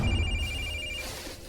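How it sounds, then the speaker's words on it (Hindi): A telephone rings in a quiet room during a Hindi horror drama, a steady electronic tone that repeats for about a second before fading. No one speaks. "ये ले, थारे बाप ने फोन मिला दिया।"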